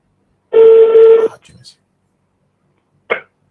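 A telephone call being dialled and not going through: a steady electronic tone lasting under a second, then brief clicks and a short blip after a pause, with no voice present.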